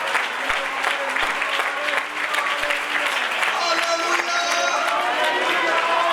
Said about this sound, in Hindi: ताली बजाकर परमेश्वर की आराधना करें